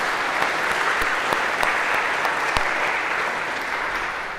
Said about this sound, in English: maybe a round of applause to break the ice for these 2